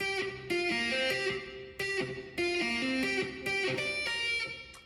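Electric guitar tapping lead from a song, quick repeated tapped note patterns in short looping phrases, played fairly quietly and alone without any talking.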